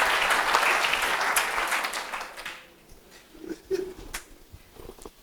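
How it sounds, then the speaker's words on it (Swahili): A church congregation bursts into sustained applause and cheering that fades after a couple of seconds, leaving scattered claps and a few faint voices. "Est-ce qu'on peut acclamer?"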